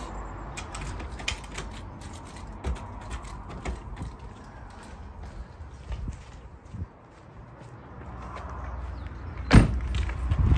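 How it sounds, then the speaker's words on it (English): A camper van's sliding door is shut among faint mechanical clicks and rattles, ending in a sharp, close thud near the end, with no talk. "Oh, you forgot to shut the camper door."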